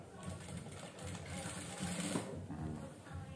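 A sewing machine stitches an A-line gamis skirt with an elastic waistband in a quiet, steady whir, faint and close, with soft speech alongside.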